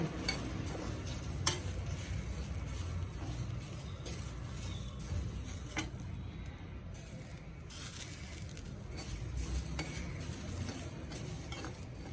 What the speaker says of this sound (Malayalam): തേങ്ങ നന്നായിട്ട് വറുത്തെടുക്കാം